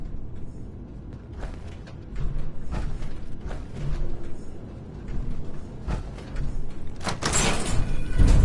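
A door opening in the video game Fallout 4 Nuka World, heard as a mechanical sliding rumble with creaks and clunks over steady low ambience, ending in a louder final burst.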